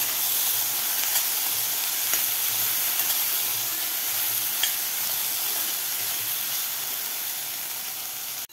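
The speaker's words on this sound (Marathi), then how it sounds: "टोमॅटो सुद्धा थोडंसं सॉफ्ट होईपर्यंत आपल्याला कांद्याबरोबर परतून घ्यायचं आहे" Tomato and onion sautéing together in a pan for dhaba-style palak dal khichdi: a steady soft hissing sizzle with a few faint stirring taps, close and even throughout, no voices.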